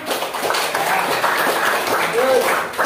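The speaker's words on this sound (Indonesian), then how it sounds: "Ya benar, beri tepuk tangan." Pupils in a classroom clapping for a classmate's correct answer, a short burst of group applause filling the room with murmuring voices under it.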